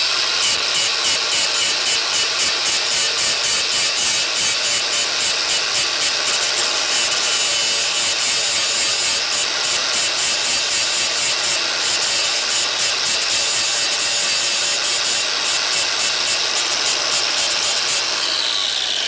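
An angle grinder works slowly along a weld seam on a car body in a DIY build, giving a steady, close, continuous abrasive whir and scrape for the whole stretch with no talk.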